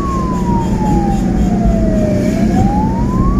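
A wailing siren sweeps slowly down and back up in pitch, loud and close, over the rumble of a vehicle engine, from escort vehicles clearing a road for an ambulance in Indonesia.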